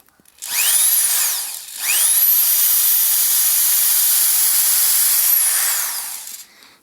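Power drill driving a screw while running off a CM-HZ4000 12/220 V car inverter, whining loud and close in two runs with a brief pause between, winding up and down in pitch.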